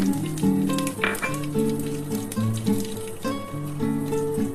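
Black cumin (nigella) seeds crackle and sizzle in hot frying oil, a steady close hiss beneath a melodic background tune.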